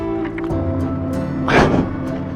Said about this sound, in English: I can hear a bike somewhere.